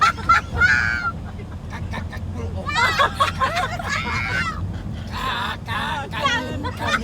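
Geese honking during travel in Camarines Sur, several loud nasal honks in bursts over a busy background of murmuring voices and outdoor noise.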